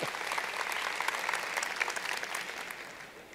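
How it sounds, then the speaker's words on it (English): Conference audience at HSM Expo 2019 giving a short burst of applause, a dense patter of many hands clapping at moderate distance, fading slightly toward the end. "That deserves some applause."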